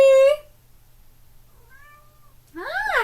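A kitty gives one clear, close meow at the very start, followed by near silence and a faint higher call, then a louder drawn-out rising and falling meow at the end.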